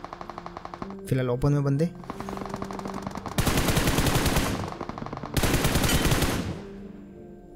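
Rapid automatic gunfire in the mobile battle royale game BGMI, two long dense bursts separated by quieter gaps, with someone talking over the game sounds.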